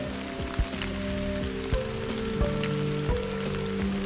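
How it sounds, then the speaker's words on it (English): Pouring rain drums steadily on a surface during a night fishing trip, a dense continuous hiss with occasional louder drips and knocks nearby. "Pouring rain. Pouring rain."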